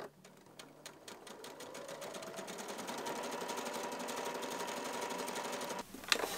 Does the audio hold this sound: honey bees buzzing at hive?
no